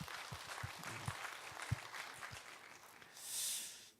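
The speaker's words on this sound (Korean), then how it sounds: "우리 하나님께 영광의 박수 올리겠습니다" Scattered applause from a church congregation, a light patter of claps with a few sharper hits, fading out at the end behind a soft hiss.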